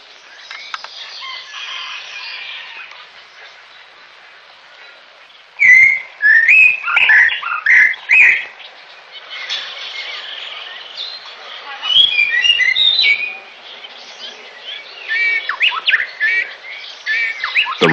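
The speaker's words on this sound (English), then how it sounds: "On the tape recorder, a male Shama bird proclaims his territory." Recorded song of a male shama bird played through a loudspeaker, heard as bursts of bright whistled phrases and chirps over steady hiss, with a quiet stretch before the song begins.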